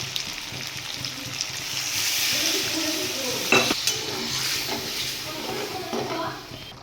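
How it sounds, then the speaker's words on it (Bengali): Water is poured into a pan where spice paste for cauliflower roast has been frying in oil, giving a hissing sizzle with a few light clinks of a utensil against the pan and some stirring. "পুরো মশলার থেকে তেল ছেড়ে দিয়েছে, আমি জল দিয়ে দেবো।"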